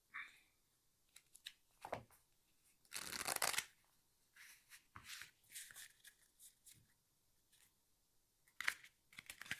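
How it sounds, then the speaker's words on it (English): A deck of playing cards getting a quick series of riffle shuffles and a cut at a game table: soft intermittent flutters and slaps, one louder full riffle in the middle, close and quiet with no speech. "set of riffle shuffles on it, and I'll cut them,"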